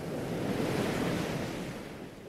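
Atlantic Ocean waves breaking on the Namib Desert coast, a continuous broad roar of surf mixed with wind noise on the microphone, steady and fairly near.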